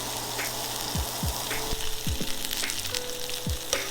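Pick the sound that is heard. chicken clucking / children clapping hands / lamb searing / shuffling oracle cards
lamb searing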